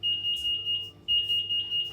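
A kitchen oven timer beeping: a shrill, steady electronic alarm pulsing in quick repeated bursts, with a short pause before it resumes, loud and alone.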